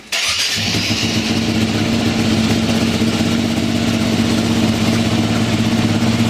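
A KTM EXC enduro motorcycle engine fires up and settles into a loud, steady idle close by, holding a continuous buzzing thrum for several seconds with no speech.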